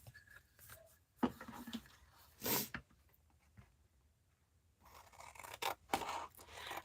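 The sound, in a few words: cutting with scissors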